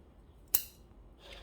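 Freshly sharpened snips trim a crepe myrtle bonsai in a single crisp, quiet snip, with a faint rustle after it.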